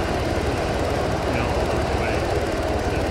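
Helicopter rotor and engine noise from a video game, a loud steady broadband rumble filling the whole stretch with a faint pulsing beat, while players talk over it.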